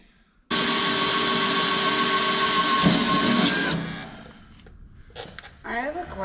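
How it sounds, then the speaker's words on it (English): A power drill runs loud and close in one continuous high whine for about three seconds, then stops abruptly, leaving quiet handling noises and people talking. "You're using my drill."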